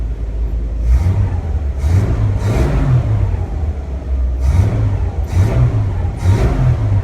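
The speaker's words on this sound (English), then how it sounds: "And they hit the throttle." A 1967 Ford Econoline's engine is revved repeatedly. There are two groups of three sharp throttle blips that rise and fall over a steady idle, close and loud, with no talk.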